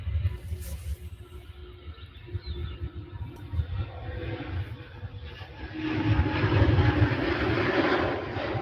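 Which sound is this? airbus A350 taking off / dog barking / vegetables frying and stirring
airbus A350 taking off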